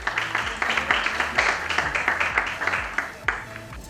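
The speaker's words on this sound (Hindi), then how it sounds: "तो प्लीज उनका तालियों से स्वागत कीजिए।" An audience at a women's awards ceremony claps in welcome, a lively burst of applause with distinct rhythmic claps pulsing throughout, fairly close and loud.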